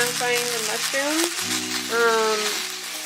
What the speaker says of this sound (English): Pan frying the mushrooms.